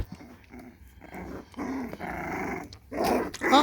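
A dog growls at another dog over a puppy, a close, rumbling snarl in several bursts that grows louder and more intense toward the end, ending in sharper snapping growls.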